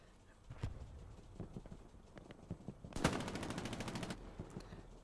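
Gunfire in the console version of the shooter Hell Let Loose during a competitive match: scattered single shots and thuds, then a sharp, rapid automatic burst of roughly a second, followed by a few more isolated cracks.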